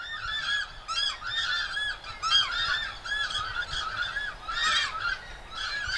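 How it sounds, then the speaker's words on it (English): Several pairs of takahē calling territorially in the Murchison Mountains, loud repeated honking calls overlapping in bursts from nearby birds, with no talk. "That's the sound of several pairs of Takahē loudly reminding their neighbours that this is their territory"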